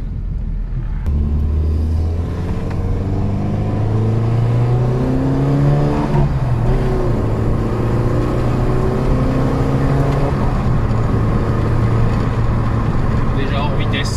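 A Volkswagen Golf 1 GTI fitted with a sportier exhaust line accelerates close by, its engine note climbing through the revs, dropping at gear changes and then pulling up again in a loud, continuous rumble.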